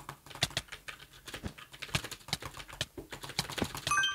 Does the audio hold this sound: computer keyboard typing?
yes